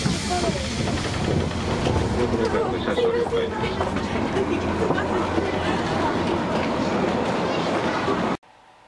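A Japanese subway train runs with a continuous loud rumble and rattle from inside the car, and faint voices are mixed in. It cuts off abruptly near the end.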